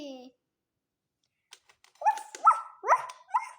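A dog lets out a short run of yelping, whiny barks close by, four or five quick bursts with a pause of silence before them.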